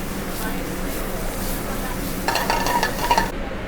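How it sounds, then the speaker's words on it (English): Sliced and chopped garlic cooking in hot oil for a steak sauce, a steady sizzle with occasional utensil stirring and pan scrapes that grows busier toward the end, under a voice. "the sliced garlic will flavor the oil. I'm gonna continue to cook and cook and cook."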